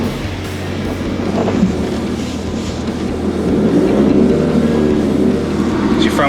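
A Ford Ranger revs hard while bogged in a huge red sand dune, a steady loud engine roar that swells louder toward the end, with wind and vehicle rumble throughout.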